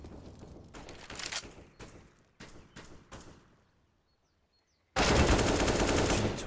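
Bursts of automatic gunfire from an MP9 submachine gun in a Counter-Strike match, several short rattling volleys, then a pause of near silence before a loud sustained burst.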